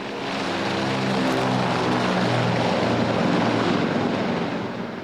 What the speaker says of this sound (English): Some aircraft look almost as good at night as they do during the day, especially the Super Constellation.